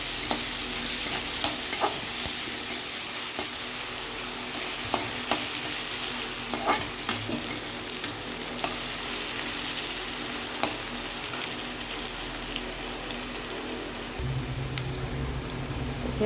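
Onion, ginger-garlic paste and green chilli fry steadily in a pan, a dense continuous sizzle with occasional utensil scrapes and stirring clicks, close and alone with no voices.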